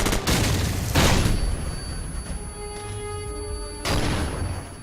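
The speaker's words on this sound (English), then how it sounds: "You also have grenades and flashbangs, which is a really cool effect." A flashbang grenade going off in Call of Duty 4, with a loud burst followed by a sustained high ringing tone and a second blast near the end, with no talking.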